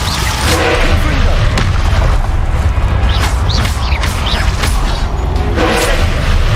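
Confringo blast spell explosions in Hogwarts Legacy, heavy booming impacts and crackling bursts amid busy combat noise, loud and dense throughout.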